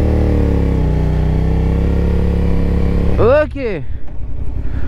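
A CFMOTO 450SR motorcycle idles loudly close by and then pulls away with a rising rev that fades as it departs. Someone speaks briefly over the engine.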